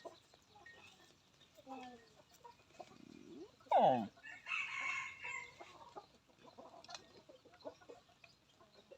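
Chickens kept at home cluck sporadically while a rooster lets out one loud, close crow midway through, with a voice talking faintly in the background.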